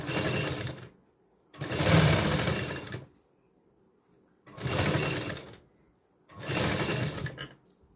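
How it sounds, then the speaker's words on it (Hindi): A sewing machine stitches a blouse seam in three long bursts of steady whirring, with short silent pauses between runs, close and loud with no talking. "ऐसी ही सिलाई आपको ऊपर की साइड में लगा देनी है।"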